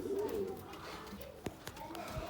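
A pigeon coos softly on a balcony, its low murmuring calls mixed with faint background noise and a couple of light knocks.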